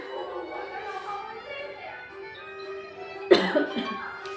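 Quiet room tone with faint background sound, then a single sharp cough from a person with a cold near the end, close to the listener.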